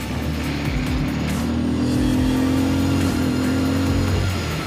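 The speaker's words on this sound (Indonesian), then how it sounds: "Setelah kita nyetirnya agak ngegas sedikit ya guys ya, biar cepat nyampe" Yamaha R3 motorcycle engine droning steadily as the rider picks up speed on a public road, a loud close hum with wind rush and a gradual rise in pitch.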